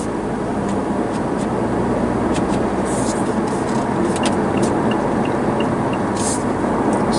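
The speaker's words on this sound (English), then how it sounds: "you still can use the manual shifting of the gearbox to keep the revs down, still accelerate quite quickly" A Mazda CX-5 194 hp engine pulls steadily accelerating in fourth gear with a constant droning rumble, some road and wind noise layered over it.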